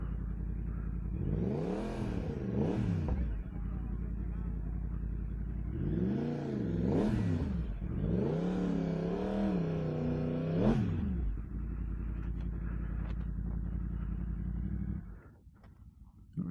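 Motorcycles rev and pass along a busy street, several rising and falling engine sweeps that swell as each bike approaches and fades, moderately close with a steady low rumble underneath and no talk.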